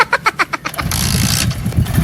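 A motorcycle engine cranks with several rapid starter pulses, then catches and settles into a loud, close, rumbling idle.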